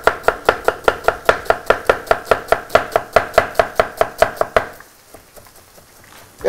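A knife chops an onion finely on a cutting board for moussaka, a rapid, steady run of close, crisp thuds that stops abruptly, leaving a brief quiet.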